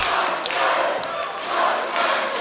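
An arena wrestling crowd cheers loudly at the start of a tag team championship match. The roar is dense and continuous and swells in waves, with a commentator talking over it.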